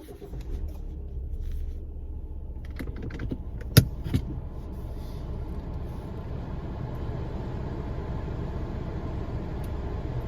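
Car sitting in a supermarket car park, a steady low engine rumble running throughout with a couple of short sharp clicks near the middle, no talking.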